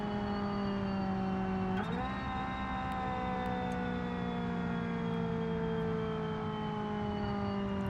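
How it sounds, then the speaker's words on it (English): A car's transmission gives off a steady tonal whine that holds and then steps in pitch partway through, running continuously and fairly faint over engine drone, with no voices. "you hear that's a transmission"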